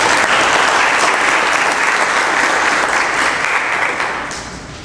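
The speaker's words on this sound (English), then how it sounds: "Let's give them a round of applause." Audience applause at a candidate forum, loud, dense clapping in a hall that holds steady and then tapers off slightly toward the end, with no talking over it.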